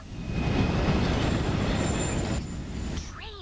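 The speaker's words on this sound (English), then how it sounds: "This train does act like a beast." In the video game Borderlands 3, the Train Beast rumbles along its rails with a loud, dense roar of rolling wheels and metal, then fades near the end as a few high squealing tones sweep in.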